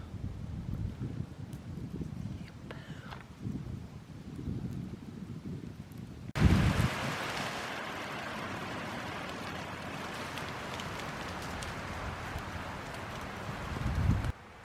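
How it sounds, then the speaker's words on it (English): Strong wind gusting across a campsite, first a lighter rustle, then a loud, steady broadband rush from about halfway on, with a brief surge near the end. "It is just so windy out there."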